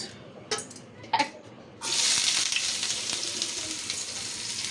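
A few soft clatters come first, then onions drop into hot oil and a loud, close sizzle bursts out and continues steadily, hissing and crackling until the end.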